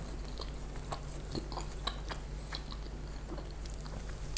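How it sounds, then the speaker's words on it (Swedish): Biting and chewing crispy, flaky homemade apple pie pastry, soft repeated crunches and chews spread through the clip, close and quiet with no talk. "Det frasar på samma sätt, lika lätt att tugga igenom."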